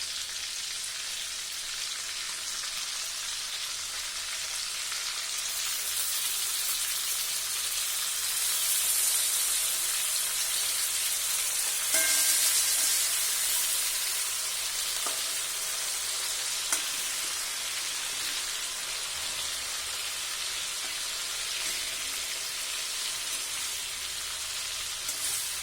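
Mackerel frying in a pan, a steady, even sizzle and crackle that holds for the whole stretch at moderate loudness, with an occasional faint clink.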